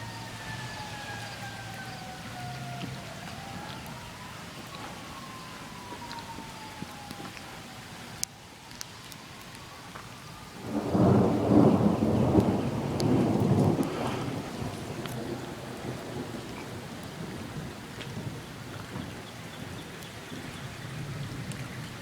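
A thunderstorm with steady pouring rain throughout, a loud rumble of thunder swelling near the middle and fading slowly, and a faint wailing siren in the distance early on, with no talking.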